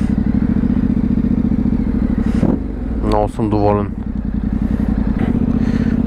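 A motorcycle rides through city traffic in Sofia, its engine a steady close drone with brief clatter, while a rider talks over it for much of the time.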